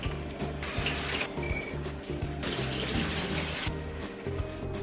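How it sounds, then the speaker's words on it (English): Tap water pouring steadily into a sink while beans are rinsed, a close, even broadband rush with small splashing variations, with food frying faintly underneath and no talking. "I'm going to rinse off the beans"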